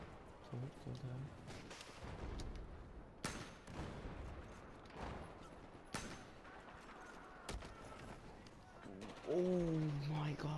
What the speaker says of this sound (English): That's a shotgun, right?